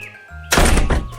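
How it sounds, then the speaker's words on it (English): A door slams shut with a single loud, sharp bang, followed by a brief rumbling decay after a quiet lead-in. "closed his door with a bang"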